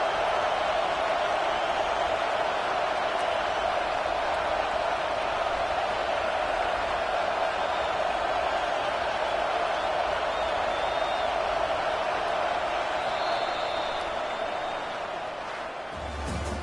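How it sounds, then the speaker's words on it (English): Dense, steady crowd roar fills a college football rivalry game during a tense fourth-down play, holding loud and sustained before easing slightly near the end. "This crowd bringing serious noise on this huge fourth down play."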